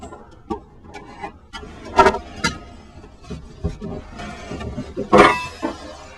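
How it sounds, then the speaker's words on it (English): A compression nut is tightened by hand on a reverse osmosis faucet, giving a handful of short rubbing and scraping clicks in an irregular rhythm, close and moderately loud, with no talking. "I'm just going to tighten this nut up."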